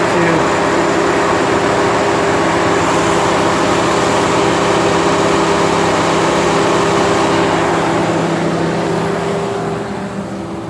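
A 2011 Chevrolet Silverado 1500 with the 5.3-liter flex fuel V8 idles steadily at close range, its AC compressor clutch engaging and disengaging with subtle shifts in the constant engine drone, with no one speaking.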